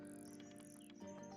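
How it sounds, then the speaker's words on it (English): Faint repeated bird chirps in the video game Tangle Tower sit over quiet sustained background music, heard without any speech. "So there's the bird, obviously,"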